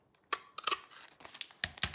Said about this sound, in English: this is what you do with the scissors if you were not using a punch